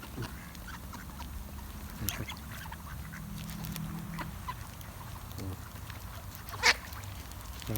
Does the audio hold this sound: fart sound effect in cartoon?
no